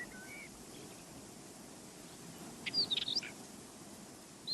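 A northern wheatear gives a brief burst of high, scratchy chirps, faint and a little distant, over a steady background hiss, with no talking.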